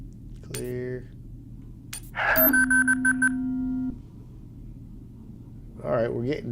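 Electronic beeps and alert tones from the space-survival game Industronaut, warning about oxygen levels: a pulsing, steady tonal alarm lasting over a second, with brief voice-like sounds around it.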